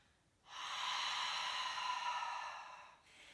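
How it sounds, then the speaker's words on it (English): A single long exhale out through the mouth during a yoga breathing exercise, close and soft, rising quickly and holding steady for about two and a half seconds before tapering off. "And then exhale out through your mouth."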